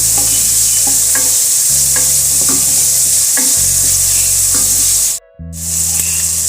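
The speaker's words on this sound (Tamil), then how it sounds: "இது எல்லாத்தையுமே ஒரு 2 நிமிஷம் நல்லா வதக்கினா போதும்" Steady loud sizzling of onion and tomato frying in a pan, with a spatula scraping and stirring at intervals, then a brief pause before the sizzle resumes.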